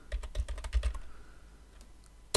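Keys clatter on a computer keyboard as a search word is typed into a browser, a quick burst of close clicks, then quiet and a single sharp click at the end.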